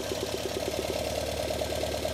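A small engine idles steadily while being tuned, its beat evening out from a limp toward a smoother rhythm, with a fast regular pulsing close up and no talk over it.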